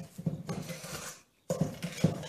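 Cookie dough with Nutella being stirred in a bowl, a scraping, knocking scrape of utensil against the bowl in two bursts separated by a short pause.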